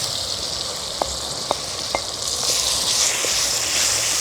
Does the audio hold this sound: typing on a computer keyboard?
no